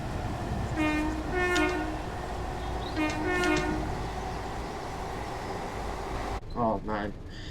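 A Lumo Class 803 electric train from the game Train Sim World 4 runs on the East Coast Main Line, giving a steady rumble with two drawn-out horn blasts, then a sharp cut to a different scene with brief tonal sounds and talk.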